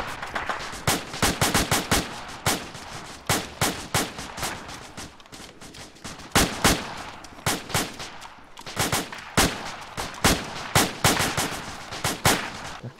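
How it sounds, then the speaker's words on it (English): Dense gunfire in a combat firefight near a road where the ground dips, with rapid bursts and single shots cracking back and forth across the whole stretch, loud and close, with no talk over it. "It was just a lot of shooting."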